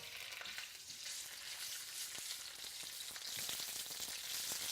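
Thai red curry paste frying in vegetable oil in a saute pan, giving a steady bright sizzle with occasional small pops and stirring scrapes.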